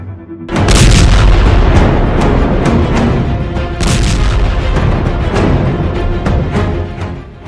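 Heavy explosions from an Israeli air force bombing of buildings in Gaza boom out in a continuous rumbling barrage, with sharp loud blasts breaking through over about seven seconds.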